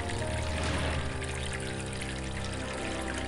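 Water pouring from a mini bucket in the puzzle adventure game Enigmatis, a steady, continuous splashing stream that holds at close range for about three seconds over dense background music.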